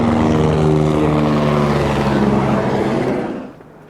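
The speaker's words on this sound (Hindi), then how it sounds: "ये आप सामने देखें भाई स्क्रीन पर हेलीकॉप्टर जो है टेक ऑफ करके और बालटाल की तरफ, नीलगिरात की तरफ जाते हैं।" A helicopter takes off at Panjtarni on the Amarnath Yatra route, flying toward Baltal. Its engine and rotor roar loud and steady, then fade away at the end.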